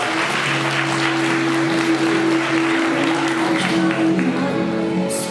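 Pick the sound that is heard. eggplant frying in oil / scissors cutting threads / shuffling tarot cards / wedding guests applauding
wedding guests applauding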